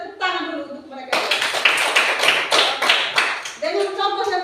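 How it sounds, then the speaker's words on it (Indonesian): A class of children clapping their hands, a dense burst of many claps lasting a couple of seconds, loud and close, between stretches of an adult teacher talking. "Kita tepuk tangan dulu untuk mereka."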